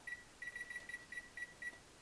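An oven timer beeps in a quick series of short, steady electronic tones over a faint background hiss, with no talk.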